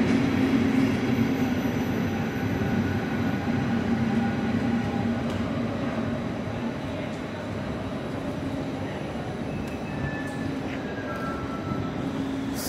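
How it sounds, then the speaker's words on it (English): Train pulling into a station, a steady broad rumble and rolling rail noise that slowly eases, with faint squeals and distant voices underneath. "Oh, my train is here."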